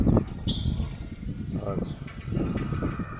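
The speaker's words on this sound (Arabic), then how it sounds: "الطيور كامله في السطح كتغرد مدوشه" Goldfinches and canaries on a rooftop, giving a few faint, high chirps that sit under someone speaking nearby.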